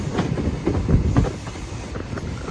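Class 90 locomotives haul a train past, giving a brief rumbling roll with faint wheel clatter, moderately loud and without speech.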